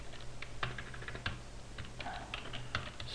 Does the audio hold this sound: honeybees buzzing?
no